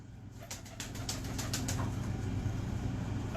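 Pigeons in a loft flap their wings in a quick series of close, papery beats, with low, soft cooing rumbling steadily underneath.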